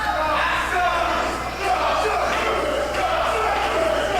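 A wrestling crowd in Saskatoon cheers and murmurs steadily during a match, a dense roar of voices at a distance with a few yells rising out of it.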